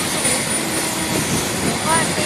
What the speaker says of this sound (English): near the Niagara, doing the helicopter ride